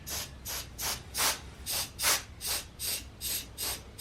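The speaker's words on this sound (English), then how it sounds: "I have the air compressor really turned down." Rhythmic bursts of an air-compressor spray gun misting pottery glaze at low pressure, about a dozen short hissing puffs in quick, even succession, close by.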